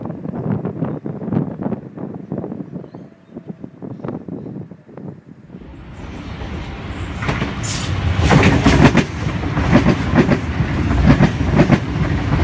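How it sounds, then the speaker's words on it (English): A Sydney Trains Oscar set, central bound, pulls into platform 1 at Eastwood station. Wind buffets the microphone and a low rumble builds, then rail clatter and wheel squeal grow louder as the train draws close. "We've got a central bound Oscar arriving into platform number 1."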